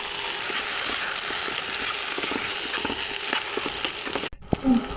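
Jujubes fry in a pan for pickle over low heat, a steady close sizzle with light scraping and clicks that cuts off abruptly near the end, then a brief clatter.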